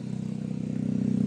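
A Mazda RX8 rotary engine with a freshly repaired valve runs at a steady idle, a close, loud low hum with a fast, even pulsing that swells slightly toward the end.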